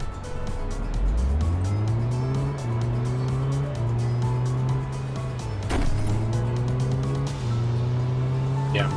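A car in the Big Ambitions video game revs up from low to a steady engine hum, easing off and picking up again a few times, loud and close throughout.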